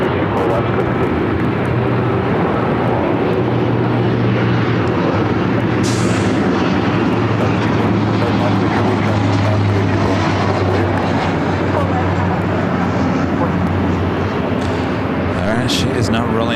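A Qantas airliner touches down on runway 24 left at Los Angeles International Airport, its engine roar loud and steady as it rolls out, with a voice talking over the sound.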